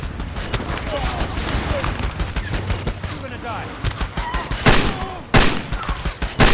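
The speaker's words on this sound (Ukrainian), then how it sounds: "досить стріляти." Rapid gunfire in Far Cry 2 crackles in dense bursts, with sharp louder shots near the end and voices talking in Ukrainian over the action.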